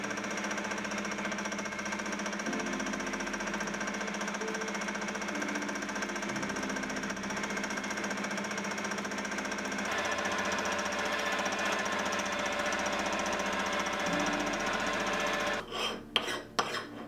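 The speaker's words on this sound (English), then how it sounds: "I'll quickly use the fly cutter to clean it up" A steady, loud machining whine with harsh metallic grinding as a fly cutter mills a metal edge on a lathe milling attachment runs continuously, its pitch shifting slightly, before winding down into a few clanks at the end.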